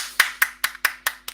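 A seminar session chair claps alone for a presenter, six crisp, evenly spaced handclaps close to the microphone, with a faint electrical hum beneath.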